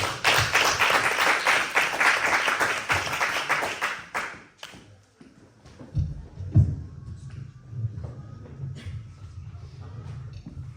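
A church congregation at a Sunday service claps for the Lord, a loud run of rhythmic claps that fades after a few seconds into sparse taps and shuffling.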